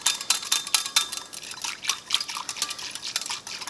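Yeast and sugar being quickly stirred in a bowl, with a fast series of clinking, scraping utensil strikes against the bowl and light liquid sloshing, close and fairly loud.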